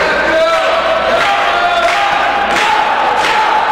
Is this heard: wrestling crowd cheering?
yes